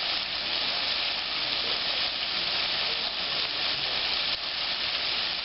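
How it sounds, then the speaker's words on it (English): Shrimp fry in a pan with a loud, steady, close sizzle, with light scraping as a spoon tosses and flips them; no voices. "I'll go ahead and just kind of toss them around with my spoon, kind of flipping them"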